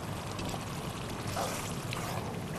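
Garlic-ginger water, about half a cup, poured into a pan for chicken karahi in a cooking-show kitchen, giving a steady, close liquid pour that runs through the whole stretch with no talk over it.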